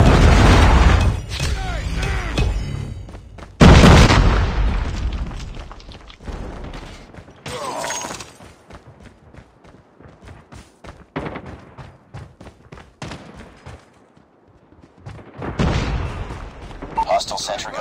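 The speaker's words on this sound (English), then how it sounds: "Hostile predator missile inbound." Heavy booming blasts and thuds from a predator missile strike and gunfire in a Call of Duty Mobile match, loud and close, with several separate bursts separated by quieter stretches, under in-game voice callouts.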